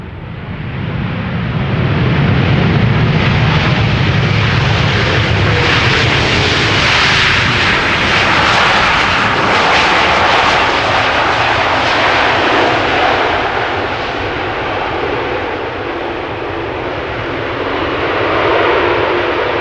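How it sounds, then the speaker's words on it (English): Aeromexico Boeing 787-8 Dreamliner arriving at Schiphol Airport, a loud sustained roar of jet engines swelling as it passes overhead, then slowly easing, with no voices. "Aeromexico flight 25, 7878 Dreamliner, arriving from Mexico City"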